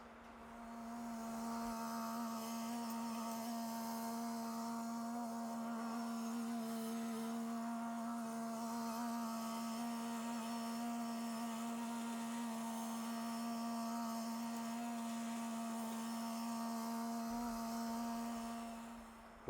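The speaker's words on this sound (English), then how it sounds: "my tractor on high speed sounds like a bunch of angry bees or a hornet's nest" A small tractor engine running at high speed, a steady buzzing drone with a strong constant pitch and whining overtones, holding even for the whole stretch.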